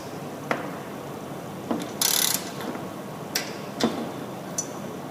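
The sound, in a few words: torque wrench with 10mm socket tightening engine bolt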